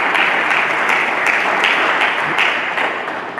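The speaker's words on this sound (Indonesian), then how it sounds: "Mari kita berikan tepuk tangan bagi Yesus Kristus." Church congregation applauding during a sermon, a dense, sustained roar of many hands clapping close by that tapers slightly near the end.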